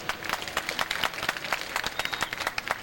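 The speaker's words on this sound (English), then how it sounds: "give yourselves all a wonderful round of applause on how well you concentrate" Studio audience at a stage hypnosis show clapping steadily and fairly loudly, a dense patter of many hands with no talk over it.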